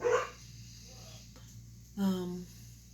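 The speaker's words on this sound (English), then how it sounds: "my dogs are, of course, barking" A couple of dog barks ring out, one at the start and another about two seconds later, somewhat muffled, with a low steady hum behind them.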